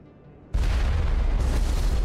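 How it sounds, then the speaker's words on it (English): A rocket explosion from assassins in the video game Mass Effect bursts in abruptly after a quiet moment, then rolls on as a loud, sustained booming rumble. "We have assassins shooting rockets at us."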